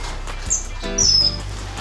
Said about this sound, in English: A little chick.